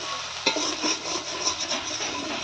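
Boiled potatoes being broken up and mashed in a pan: close, soft squelching and scraping stirring strokes in a steady rhythm, with no talking.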